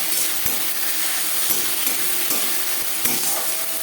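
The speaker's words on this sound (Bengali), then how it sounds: "দু তিন মিনিট পেঁয়াজ ভেজে নেওয়ার পর দিয়ে দেবো আদা বাটা কাঁচা লঙ্কা বাটা" Onion frying in oil with ginger and green chili paste in a pan, a loud, dense, continuous sizzle up close, with a few dull stirring knocks spaced about a second apart and no talking.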